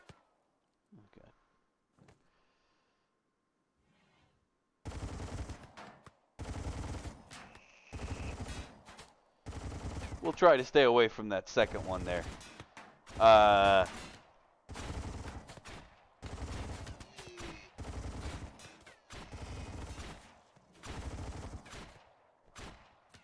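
Rapid bursts of gunfire from the colony game RimWorld ring out as repeated sharp volleys through most of the stretch, loud and close, with someone talking over them.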